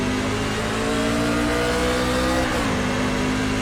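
A NASCAR race car engine in the iRacing video game holds a loud, steady full-throttle drone on an oval at Las Vegas Motor Speedway, with a brief pitch dip partway through before it settles back to a constant high whine.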